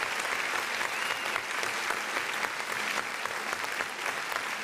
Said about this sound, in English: we appreciate y'all for y'all applause